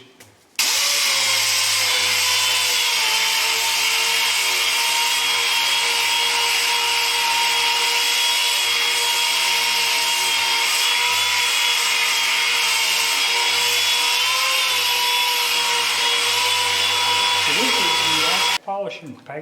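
A lathe spins steadily while a worn piece is polished with Ack's carnauba wax and mineral oil paste, giving a loud, continuous motor whine with a rubbing hiss that runs unbroken for nearly the whole stretch before cutting off near the end.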